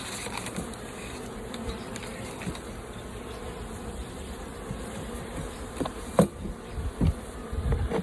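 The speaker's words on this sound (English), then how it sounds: "So this is a frame of bees" Honey bees on a hive frame make a steady close buzzing drone. Occasional knocks and handling bumps break in near the end.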